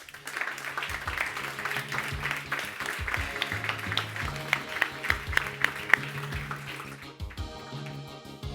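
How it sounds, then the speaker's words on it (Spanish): Audience applause at a Madrid book presentation, dense clapping from a crowd that carries steadily and thins out near the end, with faint voices beneath. "Os pido un fuerte aplauso para María José Sánchez Yago."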